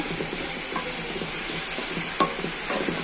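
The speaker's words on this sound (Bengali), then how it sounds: "দেখতে পাচ্ছেন, একটু কষিয়ে নিচ্ছি।" Ridge gourd sautés in a pan with a steady close sizzle and repeated soft scraping stirs, plus one sharper clink near the end.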